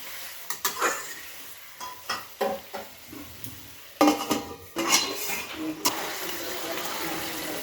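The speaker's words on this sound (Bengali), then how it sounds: "এবার আমি চিংড়ি মাছটা ঢেলে দিই।" Prawns tip into a pan of simmering pumpkin, followed by clattering metal utensil scrapes and knocks against the pan, close and irregular, with a faint sizzle underneath.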